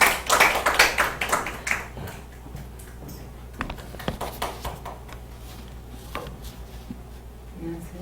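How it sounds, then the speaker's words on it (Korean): An audience at a church gathering claps, loud and dense at first, then trailing into scattered, fading claps, with faint voices underneath. "박수 해주세요."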